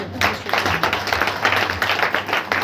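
Congregation clapping along in rhythm at a church prayer meeting, steady repeated claps filling the room with a low hum of voices beneath.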